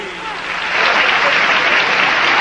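Loud, dense audience applause for a Uruguayan romantic band at a televised show, a close wash of clapping that swells after the first moment and holds steady.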